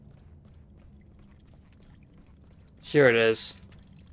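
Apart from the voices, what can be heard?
water pouring from burst pipes in the video game Fall of Porcupine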